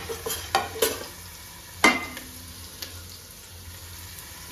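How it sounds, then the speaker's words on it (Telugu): Six cut green chillies frying in a pan, a soft low sizzle with a few sharp scrapes of a utensil stirring. "ఒక 6 పచ్చిమిరపకాయలు కట్ చేసుకొని దాంట్లో ఫ్రై వేసుకోవాలి."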